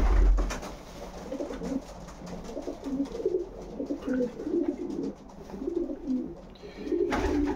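Pigeons coo softly and repeatedly nearby, low rolling calls with a few rustles and a thump at the start.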